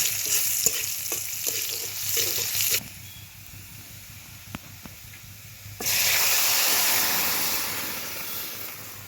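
Cumin seeds and onion frying in hot oil in a pan for a Bengali dish, a steady close sizzle that drops away midway and then surges back louder and brighter, with faint stirring clinks.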